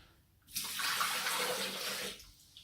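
Water pours steadily into a Thermomix bowl for chicken broth, a loud broadband gush lasting about a second and a half that starts abruptly and stops just as sharply, with quiet before and after.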